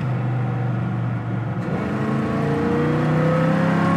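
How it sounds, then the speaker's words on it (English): The four-barrel engine of a 1963 Chevy Nova SS revs and accelerates from inside the car, a loud, steady roar whose pitch climbs smoothly as the carburetor draws air. "you can just hear that four barrel sucking air"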